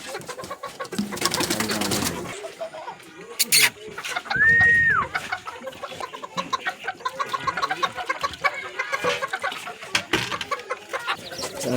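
Chickens, including breeder hens and young chicks being given water, cluck and peep in a farmyard, the calls scattered and fairly close over ongoing background noise, with a louder squawk partway through.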